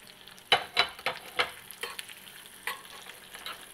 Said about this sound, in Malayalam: ഗീയിലേക്ക് ഈ നട്ട്സിനെ ഇട്ട് കൊടുത്തു